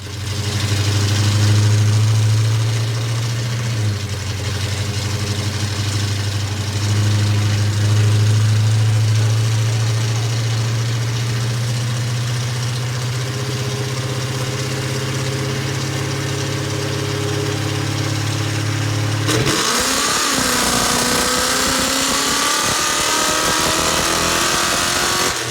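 The Oldsmobeast engine runs on a dyno with a loud, steady droning roar. Near the end it abruptly changes to a rougher, hissing, noisier sound as the throttle is released.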